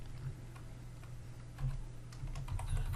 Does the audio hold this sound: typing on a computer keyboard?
yes